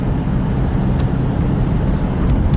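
A loud, steady car engine and road rumble fill the cabin while driving toward Poitiers Airport in France, continuous and low-pitched with a few faint clicks over it.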